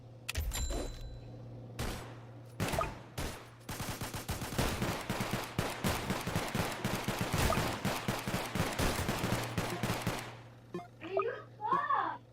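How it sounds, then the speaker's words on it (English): Rapid bursts of gunfire from a Roblox video game crackle in a dense, sustained volley, preceded by a few separate shots, fairly quiet overall, with a brief voice near the end. "I like the gunshot."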